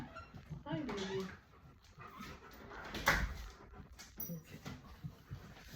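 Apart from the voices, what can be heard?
dog whimpering as it is let in from the rain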